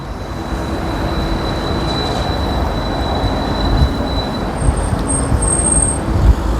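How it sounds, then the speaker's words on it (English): Steady rumble of a tram in motion in Sofia, with rail noise and a faint high whine, continuous throughout and fairly loud. "another excuse to ride the tram"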